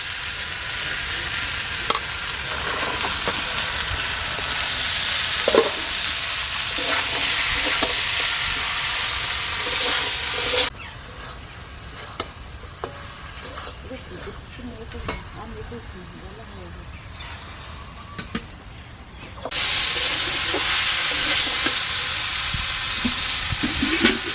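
Chicken curry frying in a pan as pumpkin green stalks are added, with a loud steady sizzle and hiss, a quieter stretch mid-way, brief clinks of stirring, and a voice faintly present in the background.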